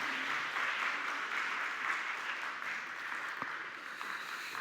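Steady congregational applause at a Sunday afternoon church service fills the room, a dense, even wash of clapping that carries on without a break.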